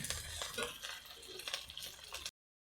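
Spices and meat paste for chicken biryani fry and sizzle in oil as a spoon stirs and scrapes the pan in irregular strokes, close and fairly quiet, cutting off abruptly near the end.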